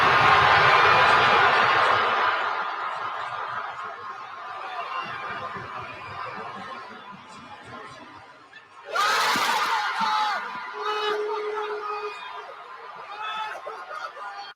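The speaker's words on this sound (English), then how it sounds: "That is what appears to be a sold-out Gainsbridge Fieldhouse" Crowd noise from a packed viewing party at Gainbridge Fieldhouse, a broad roar that fades over several seconds, then surges again loudly with cheering and chatter, with no commentary over it.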